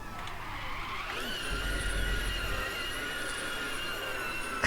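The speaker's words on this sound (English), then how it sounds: "it sounds to me as if the motor noise has gone a little bit more high-pitched" The electric motor of a Ford Mustang Mach E in the RaceRoom racing game gives a steady high-pitched whine that rises in pitch, over rumbling tyre and road noise with no talking.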